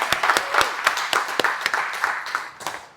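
Audience applause at a public speaking event, a modest scattering of separate claps rather than a dense roar, rising briefly and then thinning out toward the end.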